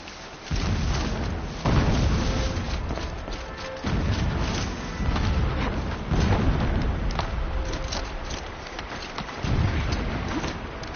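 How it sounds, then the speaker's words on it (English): Distant explosions in the video game Horizon Zero Dawn come as a series of heavy, rumbling booms that rise and fade one after another, with no talking over them. "Explosions in the distance."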